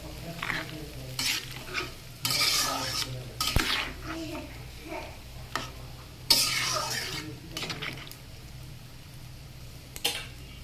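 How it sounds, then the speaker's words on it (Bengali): A spoon stirs vegetable curry in a pan with scraping strokes and clinks, over a low simmering sizzle. The stirring comes in bursts, heard up close without any talk. "দিয়ে এবারে একটু নেড়ে চেড়ে ঢাকা দিয়ে দেবো"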